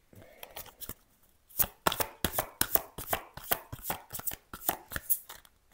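Playing cards drawn and snapped off a deck, a quick run of crisp, papery slaps and flicks close to the microphone after a quieter start, with no talking.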